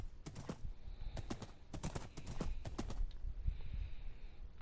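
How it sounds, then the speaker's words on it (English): Horse galloping in Minecraft Bedrock on PS4, a fast steady clip-clop of hooves that carries on throughout, close and clear with no talking. "look at how fast this horse is"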